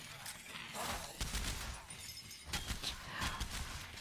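Bursts of in-game gunfire from State of Decay 2, a few shots at a time with pauses between volleys, fairly quiet and steady over a dense background.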